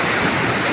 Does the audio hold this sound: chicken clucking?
no